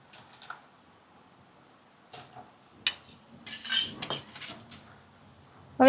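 A spoon clinks against a bowl while baking soda is mixed with water for khaman batter: a few scattered metallic taps and scrapes between quiet pauses, close and sharp.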